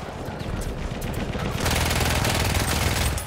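Sentry machine gun in Battlefield 1 firing continuously in a dense, rapid burst that grows louder and heavier partway through, with no talking over it.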